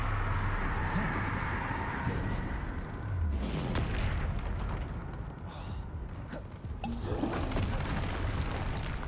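A Bombarda explosive spell goes off in Hogwarts Legacy: a heavy, low booming blast with rumbling game noise around it.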